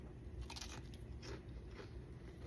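Close, quiet crunching bites into a crisp, sugar-coated fried Mexican buñuelo, several sharp crackling snaps with chewing in between, no talking.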